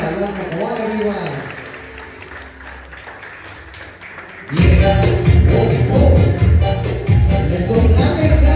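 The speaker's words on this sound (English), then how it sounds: "Let's go clapping, clapping." Family guests at a child's fifth birthday party clap together, the sound building suddenly into loud, dense clapping with a thumping beat, preceded by quieter voices and a cheerful sung tone.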